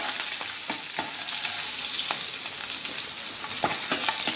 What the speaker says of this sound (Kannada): ಕರಿಬೇವು, ಹಸಿಮೆಣಸು ಹಾಕೊಳ್ಳೋಣ. ಇದು ಶೇಂಗಾ ಸರಿ ಫ್ರೈ ಆಗಬೇಕು.